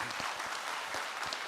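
A keynote audience in a conference main hall gives a round of applause: steady, dense clapping from many hands that holds at an even level throughout, with no voices on top.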